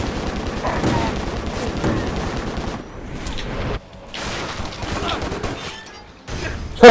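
Rapid barrage gunfire in the video game Stranglehold, dense bursts of shots and impacts in a loud, chaotic stretch, broken by brief pauses, with game sound between volleys.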